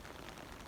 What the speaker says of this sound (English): pouring rain now